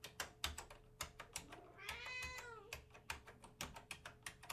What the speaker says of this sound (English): I wish this cat would stop yelling at me.